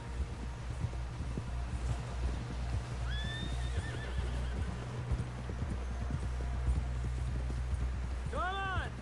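Hoofbeats of a horse in a video game clop steadily throughout, with a short whinny near the middle and a louder, closer neigh at the end, all under a low rumbling game backdrop.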